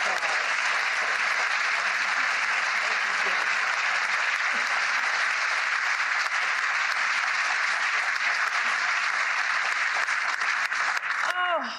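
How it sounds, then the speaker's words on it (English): Sustained applause fills a historic room at the White House portrait unveiling, an unbroken roar of clapping from a large crowd, with a voice rising briefly at the very end. "Let's give them both a round of applause."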